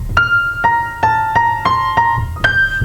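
Melody line from a Chopin etude on piano, a run of bright single notes struck at a steady pace over a low bass, with short gaps between notes where a pedal change cuts the line, played alone and without talk.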